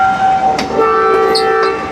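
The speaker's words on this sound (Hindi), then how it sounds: "ये आपने हॉर्न सुना ZCU का" A ZCU Chinese-built diesel locomotive at a Karachi station sounds its horn in two overlapping sustained tones, loud and fairly near, lasting about two seconds over faint station background.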